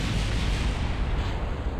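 Rocket stage decoupling in Kerbal Space Program, a dense continuous roaring blast of engine and separation noise, loud and steady throughout with no voices.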